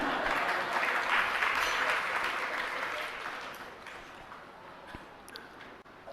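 Audience applause at a Jain sermon by Vidyasagar Maharaj and his disciples, a dense steady clatter of many hands that swells early, then gradually thins and fades toward the end.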